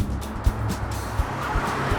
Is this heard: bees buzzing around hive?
no